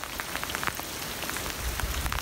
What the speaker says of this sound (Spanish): pero ahora está ya empezando a llover